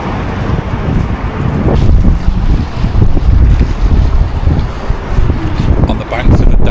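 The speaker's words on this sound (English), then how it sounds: "Absolutely windy as fuck" Strong gusting wind on the bank of the Daugava river in Riga, a steady loud roar buffeting the microphone throughout, with lapping water possible beneath it.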